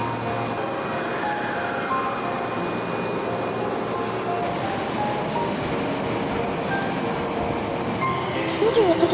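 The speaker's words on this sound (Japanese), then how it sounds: "21時16分、千里中央駅が発車。" An Osaka Midosuji Line subway train pulls out of the station with a loud, close, continuous rumble, its electric motors whining and rising in pitch as it gathers speed.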